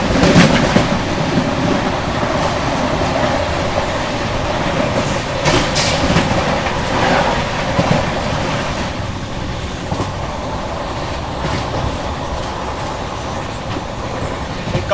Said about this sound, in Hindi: ये आ रही है सामने भुवनेश्वर मुंबई कोणार्क एक्सप्रेस के साथ, वो भी। और इतनी शानदार क्रॉसिंग हो रही है यहाँ पर पूरा कर्व पे।